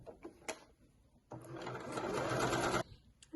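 A sewing machine runs a fast seam on an Indigo dress, a close steady whirring burst lasting about a second and a half, bracketed by a few faint clicks and handling sounds.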